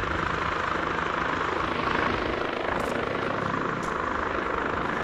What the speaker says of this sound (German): Hier sind wir ein Helikopter.